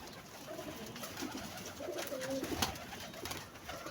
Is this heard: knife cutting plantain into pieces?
no